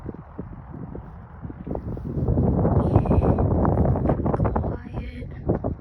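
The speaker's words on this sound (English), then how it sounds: "it's pretty windy out here." Gusty wind rumbles and buffets the microphone outdoors at a regional airport, rising to a steady roar midway, with a faint high tone drifting in the background.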